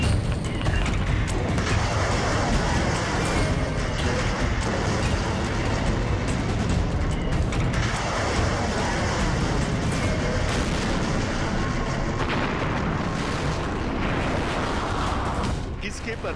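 A missile launch is heard as a continuous, loud, roaring blast that fills the whole stretch without a break, with deep rumble and broad hiss holding steady throughout.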